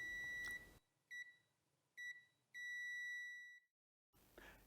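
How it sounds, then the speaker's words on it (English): Multimeter in continuity mode emits three sustained electronic beeps, the first two short and the last longer, close and clear against a quiet background, bracketed by brief handling noise at the start and end. "press the function or mode button until you hear a constant beep sound"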